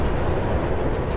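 A train approaches in the Mirror's Edge video game, a dense, loud, steady rail rumble with broadband roar filling the whole moment, no voices.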